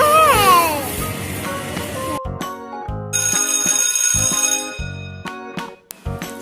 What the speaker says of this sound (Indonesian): Suara bel sudah berbunyi,